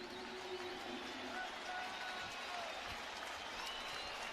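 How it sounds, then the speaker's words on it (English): A large baseball stadium crowd of about 44,000 roars steadily as fans rise to their feet for a big two-out moment with runners on second and third, a dense, continuous wall of cheering and applause. "Crowd coming to its feet"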